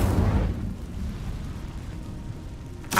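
An Incendio fire spell in the Hogwarts Legacy video game erupts as a loud whooshing burst, settles into a steady roaring rumble, and ends with a brief flare of noise.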